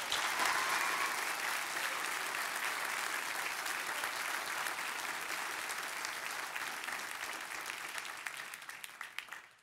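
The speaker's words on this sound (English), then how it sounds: "Please, everyone, let's give them a round of applause." An audience at a military induction ceremony in Glendale, Arizona claps for the new inductees, a broad sustained wash of applause that holds steady and then gradually thins and fades toward the end.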